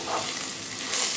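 Dalia and vegetables fry together in a pan with a continuous soft sizzle, close but fairly quiet and briefly louder toward the end, with no voices.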